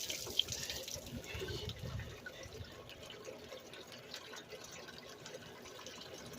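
Coolant water drains steadily from the radiator of a 2003-2005 Lincoln Aviator with a 4.6L V8, a continuous low splashing trickle heard close up with no talking.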